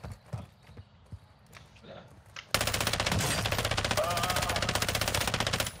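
Quiet speech and small noises, then sudden loud, sustained rapid-fire gunfire in Call of Duty Modern Warfare II DMZ, a continuous automatic burst with a sharp repeating rhythm until the end.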